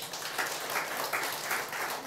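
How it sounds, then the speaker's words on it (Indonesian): Congregation applause in a church service, steady dense clapping from many people for about two seconds, moderate and fairly even. "Tepuk tangan untuk Tuhan."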